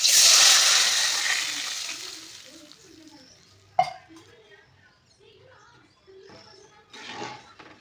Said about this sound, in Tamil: நம்ம இப்போ நம்ம கரைச்சி வச்சுருக்கிற அந்த ரசத்தை இதில் ஊற்றிக்கலாம்